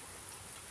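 Rain falls in the dark early evening, a faint, even hiss of drops on surfaces that is brief and distant, with no voices.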